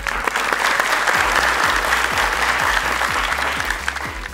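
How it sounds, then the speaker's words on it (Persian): Studio audience clapping for two contestants on an Afghan Family Feud-style quiz show, a loud, steady wash of applause with regular thumping beats underneath, lasting throughout and easing slightly at the end. "شما هم تشویق کنین"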